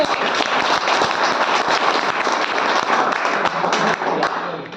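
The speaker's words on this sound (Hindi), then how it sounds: "ताली बजाओ सब लोग" A crowd of Agniveer aspirants claps in unison for an Indian Army soldier: loud, dense, continuous group clapping with rapid overlapping hand strikes, held steady for several seconds before tapering slightly at the end.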